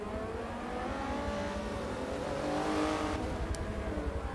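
A race car engine drones steadily at the Nurburgring GP circuit as the Venom car heads into the pits, a continuous mid-distance roar with slight pitch shifts and no voices.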